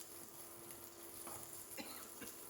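Mustard seeds, dried chili, shallots and curry leaves sizzling in hot oil, a faint, continuous hiss with a few soft crackles and pops.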